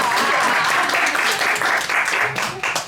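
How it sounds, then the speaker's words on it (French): Studio audience applauding steadily for about three seconds at a French talk show, a dense continuous wash of clapping hands that swells and dips slightly without pause. "Le public est admis à applaudir"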